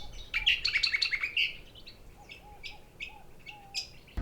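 Recorded bird calls played in mangrove scrub to lure a mangrove golden whistler near Broome, heard as a burst of bright chirping followed by several short, fairly quiet whistled notes spaced apart.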